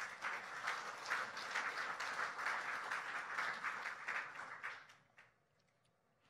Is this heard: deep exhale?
no